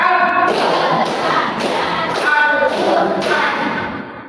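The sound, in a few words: group clapping in a clap chant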